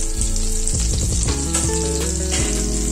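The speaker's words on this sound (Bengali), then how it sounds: "দিয়ে একটু ভাজবো এগুলোকে" Whole spices — a cinnamon stick, two cardamom pods, whole black peppercorns and half a teaspoon of cumin — frying in hot oil for malai kofta, a steady close sizzle with stirring clatter throughout.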